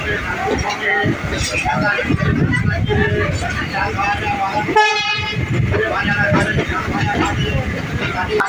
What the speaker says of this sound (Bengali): সকাল 9:05-এর হাওড়া তারকেশ্বর লোকাল তার নির্ধারিত সময় থেকে 10 মিনিট লেটে হাওড়া স্টেশন থেকে বেরিয়ে